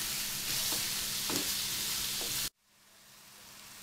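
Meat browning in a pan for shepherd's pie gives a loud, dense, steady sizzle with a few stirring scrapes, close up, then cuts off abruptly, leaving a faint low hiss.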